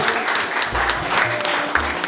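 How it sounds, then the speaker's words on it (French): Broadband clapping from a crowd, steady and sustained across the whole stretch, with faint low murmuring beneath it. "Est-ce qu'on peut encore applaudir, mesdames et messieurs?"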